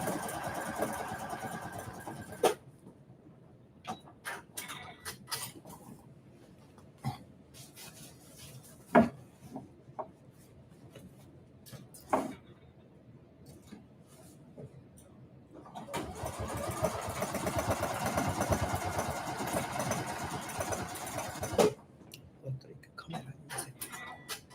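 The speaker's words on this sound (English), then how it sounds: "So now I'm sewing the canvas." A sewing machine stitching through canvas runs in short mechanical bursts with pauses between them, then in one longer stretch, close by and moderately loud.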